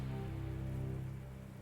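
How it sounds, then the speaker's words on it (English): Steady rain falling in the World War II strategy game Panzer Corps 2, set at Stalingrad, a dense continuous hiss and patter with a low rumble underneath, unbroken and fairly even in level with no voices. "And it's raining."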